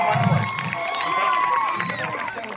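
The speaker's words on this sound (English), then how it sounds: "So that's why everyone clap for them." Spectators at a school sports day kabaddi final cheer and shout in a steady, fairly loud crowd roar with whistling or shrill tones on top, and no distinct claps stand out.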